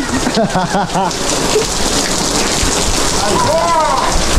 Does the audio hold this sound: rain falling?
yes